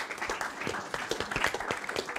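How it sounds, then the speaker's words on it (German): An audience applauds after a presentation on the redesign of Munich's main railway station, a moderate, scattered burst of clapping with individual claps distinct, steady across the whole stretch. "auch nochmal Applaus"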